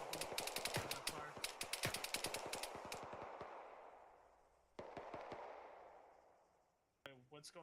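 Gunfire from an unseen direction during a team operation: a fast volley of sharp shots that trails into a long fading echo, then a single later crack and a brief burst of radio-like chatter at the end.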